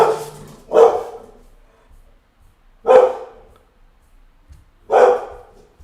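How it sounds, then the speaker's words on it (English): A dog barks in four sharp, loud bursts spaced about two seconds apart, with near silence between them and no voices. "I've already checked that dog, Soap."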